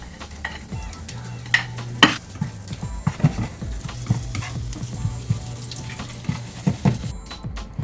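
Chili frying and being stirred in a pan for Indonesian nasi goreng, a close crackling sizzle punctuated by frequent scraping and clinking strokes of a spatula against the pan.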